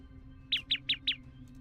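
A bird in the video game Black Beacon gives four quick, evenly spaced bright chirps in a row, clear and close over a faint low background hum.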